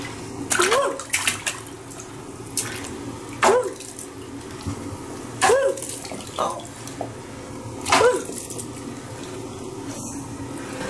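A toddler splashing in bath water at bath time, soft irregular splashes and drips close by over a quiet running-water background, with occasional bursts of small movement.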